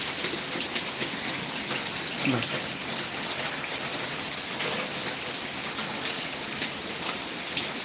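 Heavy rain falls steadily in a dense, constant hiss with a brief louder patter partway through.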